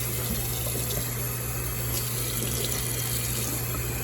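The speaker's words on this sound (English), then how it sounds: "I got it on cold water now to hurry up and get these suds out." Cold water streams steadily from a kitchen tap, rinsing suds out of a sink, an unbroken close hiss of running water with a faint low hum beneath and no talk.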